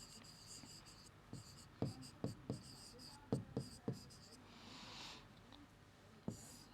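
A pencil sketching a rough figure on paper: a run of short, sharp scratchy strokes in irregular bursts, close and quiet, with faint background hiss between them.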